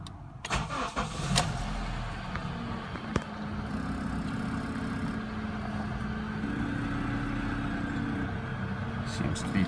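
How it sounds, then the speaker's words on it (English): Honda CR-V engine cranking and catching near the start, then settling into a steady mid-pitched idle that drones on, with a sharp click partway through and someone speaking over it. "I'll start it up and see if this engine light comes on."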